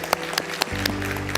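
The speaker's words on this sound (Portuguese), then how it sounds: "aplaudamos o Senhor Jesus" A congregation at a Portuguese-language church service claps for Jesus, a brief burst of dense hand claps over a low steady hum.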